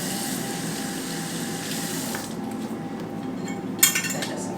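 Hot soapy water runs steadily from a tap during a microdermabrasion facial, a loud, even rush that thins out partway through, followed by a few faint clinks near the end.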